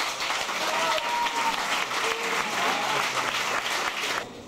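Steady applause from an audience at the HTML.it 2001 competition award ceremony, dense and sustained clapping filling the room before fading slightly at the end.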